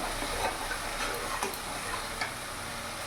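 Ginger, garlic and chili paste sizzles steadily in a frying pan while being stirred, with a constant hiss of frying and faint scraping ticks from the spoon against the pan.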